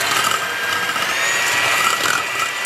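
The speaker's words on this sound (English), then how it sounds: "using a handheld mixer, mix until you have stiff peaks" Handheld electric mixer whipping heavy cream toward stiff peaks in a bowl, a steady loud high whirring buzz with faint scraping, continuous and close, no voices.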